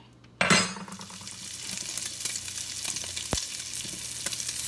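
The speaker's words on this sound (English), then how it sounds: "So the bacon is starting to render down and become crispy." Bacon frying and rendering in a pan, a steady close crackle and hiss that jumps up at once, with a brief spatter and a single sharp pop partway through, heard alone without speech.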